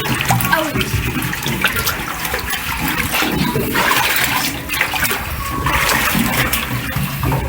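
Water splashes and rushes steadily as a pontoon boat is rinsed off, a continuous gushing flow close by with faint voices underneath.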